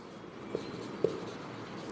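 Pen or chalk writing during a ninth-grade geometry lesson, a soft continuous scratching with two small taps, faint and close in a quiet room.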